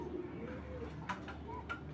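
A female pigeon coos softly and faintly from close by, a low, rounded murmur with a slight tick-like click near the end and no voices.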